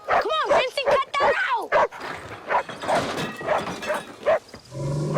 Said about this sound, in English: Dog's barking for a reason.